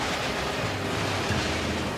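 Tidal waves crash at sea in a dense, continuous roar of surging water and rushing wind, loud and unbroken with no voices.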